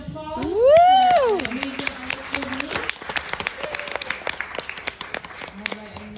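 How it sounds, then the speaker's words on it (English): Audience applause at a summer showcase, a burst of clapping mixed with a loud whoop near the start, then scattered claps fading under a voice talking. "let's have one more round of applause"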